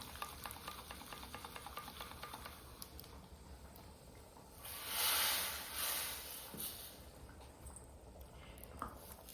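Spices and green chillies splutter in hot oil for a dal tadka, a faint, soft crackle with a brief louder sizzling surge midway, heard close but quiet, with no talking.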